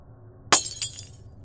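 Glass breaking somewhere in a house, a single sharp shattering crash followed by a brief tinkling scatter of shards, heard alone over a quiet low hum.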